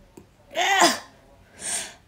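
A single close sneeze with a sharp intake of breath and an explosive burst, followed by a softer breathy exhale.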